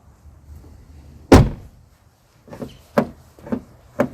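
A loud mechanical clunk as a Ford's rear door handle is yanked, then after a short pause four sharp clicks and thunks in quick succession as the lock engages nearby.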